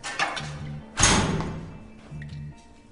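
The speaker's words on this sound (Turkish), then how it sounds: "Kapat sen de kapıyı kapat." A door closing with a thud amid loud knocks and thumps, a heavy impact midway followed by softer bumps, close and indoors with no talking.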